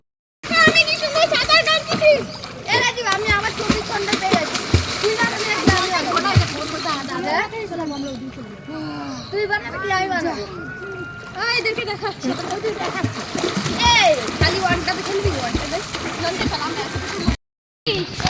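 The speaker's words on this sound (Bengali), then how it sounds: "আমি আর আমার ভাই প্রচন্ড পরিমাণে সাঁতার কাটার চেষ্টা করছিলাম" Children swimming in a village pond, splashing and sloshing water repeatedly near the listener while young voices talk and shout over the churning.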